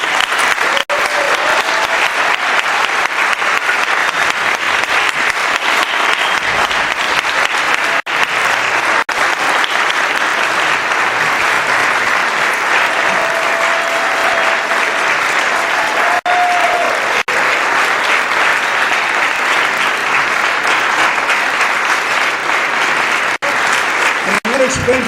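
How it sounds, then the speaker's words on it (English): Sustained audience applause at a Seudat Hodaa thanksgiving ceremony, dense and steady from start to finish without a pause, with no voices rising above it. "Mrs. Chani Geisinsky, who I think deserves a tremendous round of applause."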